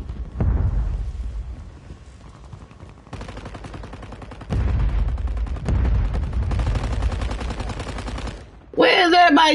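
Loud gunfire from the battle royale game Warzone rattles on continuously, dense bursts and volleys stacking over one another, with distant shots and closer fire swelling in waves.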